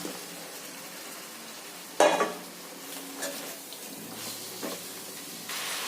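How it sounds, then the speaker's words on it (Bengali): Chicken meat and spices get mixed in a pan for lal murgir jhol, a soft sizzle broken by a loud utensil scrape and scattered stirring clatters against the pan. "এবার আমি মশলার সাথে মাংসটা মিশিয়ে নেব।"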